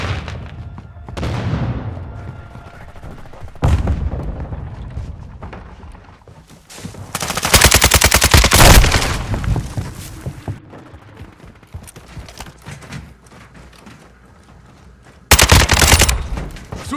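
KASTOV 762 rifle gunfire in Modern Warfare 2, several loud bursts of rapid automatic fire separated by quieter gaps, with booms and sharp single shots, close and punchy.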